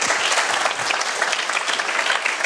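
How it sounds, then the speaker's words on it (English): Loud, dense applause from a business-talk audience presenting a departing guest with a gift, steady clapping from many hands close by. "we're going to go ahead and present him with an applause and a gift now."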